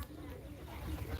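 A pair of house pigeons coos softly in low, rounded tones against a faint background murmur.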